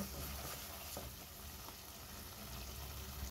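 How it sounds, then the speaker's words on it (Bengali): Dried fish fries in a hot pan, a quiet, steady sizzling and crackling hiss with occasional faint pops, stopping abruptly at the end. "এখন আরেকটু ভাজা ভাজা করে নিব"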